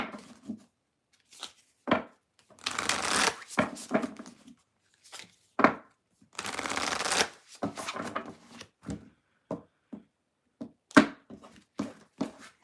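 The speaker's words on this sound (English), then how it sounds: "Okay, I'm going to shuffle." Tarot cards being shuffled by hand, a series of crisp riffling and flicking bursts separated by short pauses, close and fairly quiet, with no one talking.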